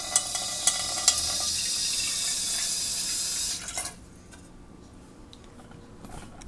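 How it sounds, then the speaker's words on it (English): A small splash of water runs into a cooking pot in a home kitchen, a steady broadband pour lasting several seconds before cutting off, leaving quiet room tone. "You want to put a tiny bit of water so you don't burn anything."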